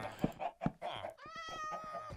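A Minecraft cat meows a few times, short tonal cries that follow a voice speaking at the start, heard fairly close in the game.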